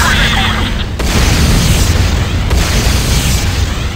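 A Nod Tiberium Refinery blows up in the game Renegade, a loud, sustained rumbling explosion roaring for several seconds, with a brief surge and then continued crackling boom.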